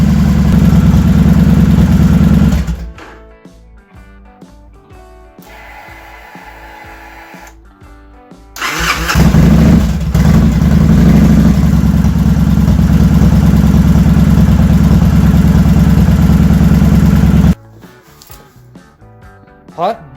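A 2007 Victory Vegas motorcycle with a newly replaced fuel pump cranks and starts, then settles into a loud, steady, deep idle close by. The engine cuts off and is restarted, idling again for several seconds.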